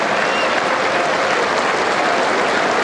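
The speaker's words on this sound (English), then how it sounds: "There wouldn't be too many other venues around the world who give that sort of applause to a visiting captain." Trent Bridge cricket crowd applauding New Zealand's visiting captain at a Test match, a steady, dense wash of clapping from a large crowd throughout, loud and unbroken.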